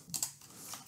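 A few keystrokes on a computer keyboard as a command is typed for setting up a ROS project: two crisp clicks close together near the start, then another soft tap, close and fairly quiet with no voice over them.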